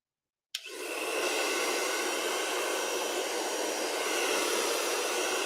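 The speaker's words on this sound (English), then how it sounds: "Had to use my blow dryer sometime." A handheld blow dryer runs to dry wet paint on a tulip painting in a painting studio, kicking on abruptly and then blowing as a steady, loud, broadband whoosh with no talking.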